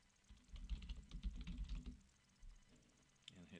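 A computer keyboard typed on briefly in a quiet room, giving a quick run of soft close key clicks that then stops.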